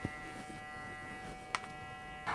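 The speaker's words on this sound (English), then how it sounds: "trying to break them up a little bit with the corner of my clipper" Electric hair clipper buzzing steadily at close range while cutting hair in a barbershop, a continuous motor hum with brief louder strokes as the blade corner works through the hair.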